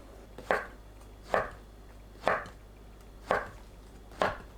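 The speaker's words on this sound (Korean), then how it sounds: "손질한 설원버섯을 살짝 두툼하게 썰어주세요." Snow-white mushrooms sliced fairly thick with a knife on a cutting board: five evenly spaced, soft, close chops in a slow, steady rhythm over quiet background hum.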